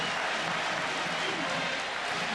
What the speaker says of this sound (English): And now the crowd comes back into it.